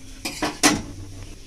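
A metal lid set onto a pot of boiled cabbage: a few quick clanks and one louder ringing clatter, close by and alone.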